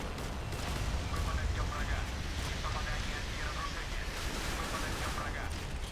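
Dense bursts of rocket fire and explosions in the naval game Modern Warships, shooting down a helicopter, roar over a noisy battle background, with brief voices mixed in.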